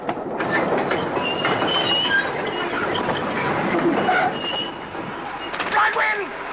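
A passenger train slowing to a stop, a steady rumble with clattering wheels and high squealing brakes that ease off near the end, heard from inside a carriage under voices.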